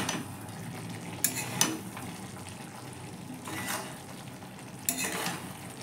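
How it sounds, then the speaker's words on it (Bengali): Mixed vegetable curry is stirred in a pan as it cooks down, a soft continuous sizzle running under occasional scraping sweeps of the spoon and a few light metallic taps. "ভালো করে তরকারিটাকে জলের মধ্যে কষিয়ে নেওয়া হচ্ছে"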